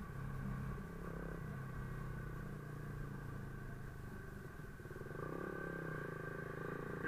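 Several motorcycles and scooters ride together, including Honda Click 125 and 150, two Yamaha NMAX, a Yamaha Aerox, a Honda PCX and a manual underbone bike, on a year-end group ride. Their engines make a steady, close droning rumble that holds throughout with no talk.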